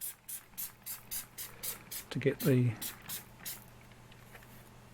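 A spray bottle mists water onto a pigment painting while a towel covers the white areas, giving a run of short, crisp spritzes in an even rhythm under a person's ongoing talk.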